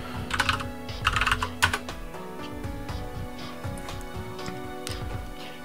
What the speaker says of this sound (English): From here, I'm gonna simply type Homebridge to restart Homebridge.